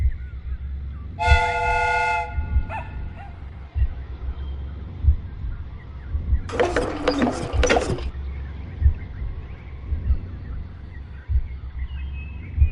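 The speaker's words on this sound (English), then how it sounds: "The steam whistle is ready to be used." A replica train's steam whistle in a Sherlock Holmes video game sounds in two blasts, a clear tonal toot followed later by a longer hissing, breathy whistle, over a low rhythmic rail clatter.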